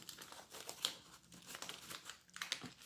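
A small paper budgeting envelope crinkles and rustles up close as it is stuffed with banknotes, giving a busy series of crisp crackles and crunches with no voices.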